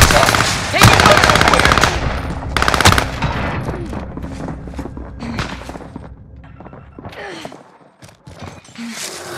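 Heavy automatic gunfire from a Call of Duty Warzone firefight on the Caldera map, loud bursts and rapid rattling volleys, then scattered shots, thuds and distant pops trailing off, with no talk.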